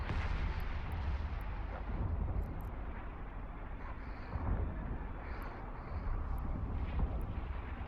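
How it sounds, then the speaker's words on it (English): Ship weapons fire in EVE Online space combat as a continuous low rumble of repeated booming shots and explosions, heavy and dense, with faint high clicks from the interface above it. "Just keep locking them up and shooting them."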